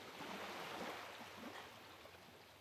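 An ocean-waves sound effect played during a tabletop role-playing session, with a steady, fairly loud broadband surf wash that swells briefly and then eases slightly.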